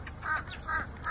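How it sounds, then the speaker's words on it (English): A large flock of birds gathered to be fed gives a couple of brief honking, duck-like calls over a steady outdoor background. "I ain't never seen so many birds in one spot like that."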